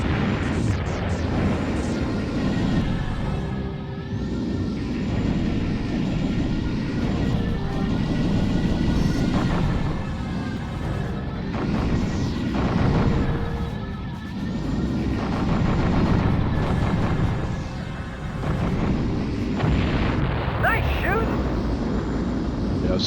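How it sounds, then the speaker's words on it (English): In the Colony Wars space combat game, missiles streak past and explosions boom almost continuously, a dense roaring barrage of whooshes and blasts that swells and fades over about twenty seconds. "And a lot of missiles flying in my face."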